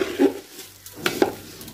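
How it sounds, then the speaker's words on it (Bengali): A kilogram of rice is stirred and fried in a pot for biryani, with close scraping strokes and a few sharp clanks of the spoon against metal over a faint sizzle. "চালটা আমি একটু ভালো করে ভেজে নিব"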